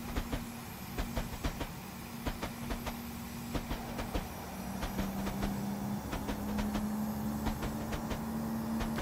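Wheels of a Class 320 electric train in a Train Sim 2021 game clatter over jointed track on a suburban Glasgow line, giving steady rhythmic clicks over a constant low rolling hum and motor whine.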